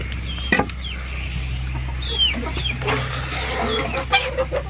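Chickens in a coop cluck and squawk close by, with repeated short calls and rising squeals over a low background hum and occasional knocks.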